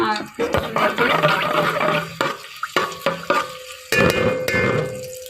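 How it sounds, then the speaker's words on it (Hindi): Hot oil crackles and sizzles as garlic drops in to fry, with clattering utensil knocks and stirring scrapes close by, steady sputtering throughout. "ये हमारा ऑयल अच्छे से गर्म हो गया तो अब हम इसमें ये लहसुन"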